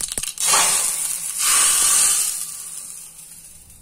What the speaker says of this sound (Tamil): கடுகு போட்டு நம்ம தாளிச்சிக்கலாங்க.